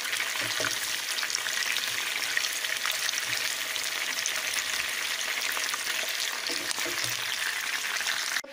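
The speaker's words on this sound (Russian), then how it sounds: "Курочка жарится." Chicken seasoned with soy sauce sizzling in a frying pan, with a steady close crackling hiss of hot oil and occasional soft pops and stirring taps, continuous with no talking.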